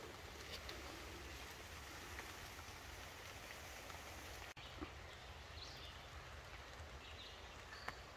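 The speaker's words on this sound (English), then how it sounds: "This rain that we're having today, which is relentless" Relentless rain falls in New York, making a steady, soft hiss of drops on surfaces that continues without pause, faint and distant in tone, with no talking.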